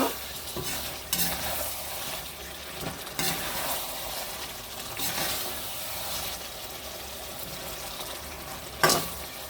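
Pre-fried meat stirred into a simmering gravy for homemade biryani, with scraping stirs recurring every couple of seconds over a low sizzle and a sharper clank near the end.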